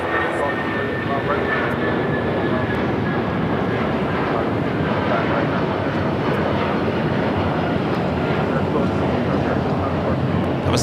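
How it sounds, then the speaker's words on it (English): A jet airliner pushes back from the gate at LAX, its engines and ground equipment making a loud, continuous roar that holds steady throughout. "Yeah, look at that. It is pushing back."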